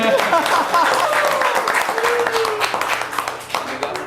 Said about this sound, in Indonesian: Kasih tepuk tangan Hansen.